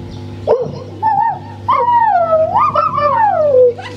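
A voice imitates a dog barking at an approaching stranger with drawn-out, whining yelps that rise and fall in pitch, several sliding cries over a steady low hum.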